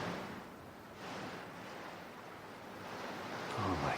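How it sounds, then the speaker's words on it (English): Wind effect for a radio drama, a faint, soft whooshing that swells and fades in gentle gusts, with no voices. "The wind began to whisper."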